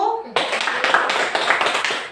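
Students in a classroom clap together for a student group in a short, close burst of rhythmic clapping, with a voice heard briefly just before.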